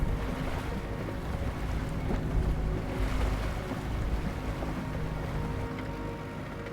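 Amphibious vehicle fording a river swollen with rising thaw waters, a continuous churning wash of water and engine rumble with wind buffeting the microphone, steady and moderately loud without speech.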